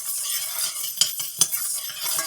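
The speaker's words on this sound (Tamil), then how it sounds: "கருப்பு உளுந்து போடணும். இதையும் நல்லா வறுக்கணும்." Black urad dal dry-roasting in a pan, stirred with a soft continuous rustle and scrape, two sharper knocks of the utensil against the pan standing out, no voices.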